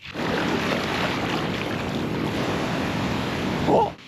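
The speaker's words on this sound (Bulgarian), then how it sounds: "Огромни вълни има навън в момента." Large ocean waves crash and roar on a deserted island shore, a constant loud surf wash mixed with wind buffeting the microphone, with a brief swell in loudness near the end.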